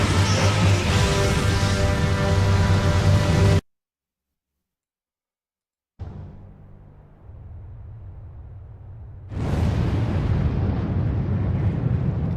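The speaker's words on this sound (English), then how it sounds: "Catastrophic explosion." An explosion in the video game Final Fantasy XIV: a loud, sustained roaring blast that cuts to sudden silence, then a quieter rumble before a second bright, crackling burst surges in and holds to the end.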